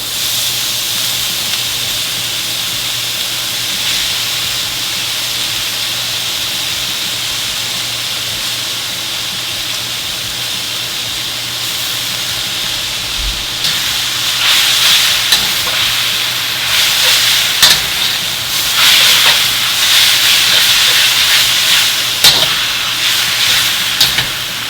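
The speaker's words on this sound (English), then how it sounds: "Now I'm ready to add in my lo mein noodles." Lo mein noodles frying in a hot wok, a steady loud sizzle and hiss that grows busier partway through as scraping and stirring strokes clatter in irregular bursts.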